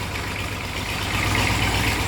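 Old Massey Ferguson tractor hauling a load of dung: a low, continuous diesel engine rumble that swells slightly partway through, fairly close and steady, with no talking.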